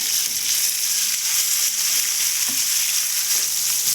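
Onions and chopped tomatoes fry in a pan for mutton gravy, giving a steady, close, crackling sizzle with a few scraping stirs, with no voices over it.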